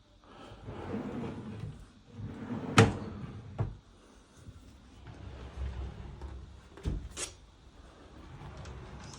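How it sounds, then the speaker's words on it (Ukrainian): Full-extension drawers in a sliding-door wardrobe are pulled out and pushed shut, with a few soft sliding rumbles and several sharp knocks and thuds close by, spaced irregularly, with no talk. "Дві висувні шухляди повного витягу."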